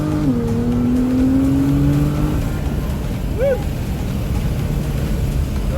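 A 600 hp Nissan GTR R35 Alpha accelerates hard, its engine note climbing and then falling as it shifts, heard loud from inside the car over road and wind roar, with a brief voice partway through.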